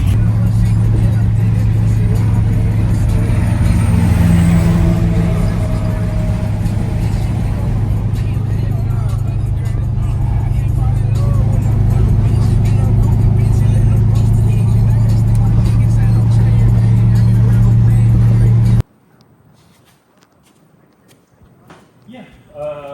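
A Chevrolet C10 truck with an LS engine runs with a loud, steady, heavy drone that holds for most of the stretch, then cuts off abruptly, leaving faint scattered noises.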